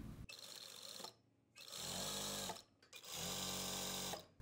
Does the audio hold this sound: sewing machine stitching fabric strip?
yes